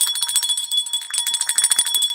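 A bell ringing in rapid repeated strikes, bright metallic tones sounding close and fairly loud for a couple of seconds with no talking.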